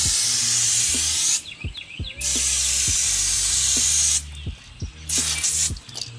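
Clear coat sprays from an aerosol can onto a motorcycle part in long, loud, close hissing bursts with brief pauses between them, and soft low rumbles sit underneath.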